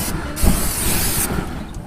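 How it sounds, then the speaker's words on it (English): Cooking spray hissing onto a very hot, preheated grill with clean grates before salmon goes on, a steady close spray burst lasting under two seconds. "Just gonna hit that with a little cooking spray."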